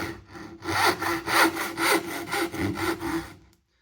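Hand saw cutting a wooden tenon held in a vise, steady rhythmic rasping strokes, about seven back-and-forth passes close up, ending abruptly in silence.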